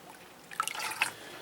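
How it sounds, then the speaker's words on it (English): Vinegar poured into a sonic cleaner for cleaning brass, a soft splashing trickle starting partway through and continuing in small, close, fairly quiet drips and gurgles. "I'm going to pour a little bit more vinegar than I usually use."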